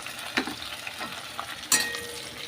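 Chopped tomato added to onions frying in a pan with cardamom, cinnamon and cumin, giving a soft steady sizzle with a few stirring scrapes and light spatters, close and fairly quiet.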